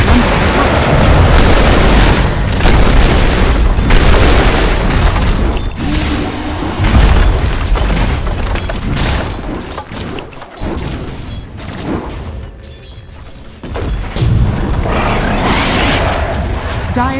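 Buildings under attack in the video game Dota 2, with booming impacts, crashes and explosive bursts piling up in a dense, loud battle din that briefly thins before surging back.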